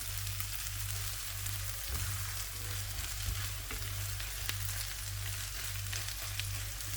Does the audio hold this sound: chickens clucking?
no